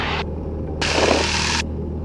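A small training airplane engine runs at full power for takeoff, heard as a steady low drone through a headset, with bursts of radio static hissing over it.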